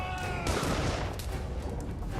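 Gunshots fired at the ceiling and walls in the video game Dungeon Siege 3, a dense burst of rapid overlapping shots that stays loud and steady throughout.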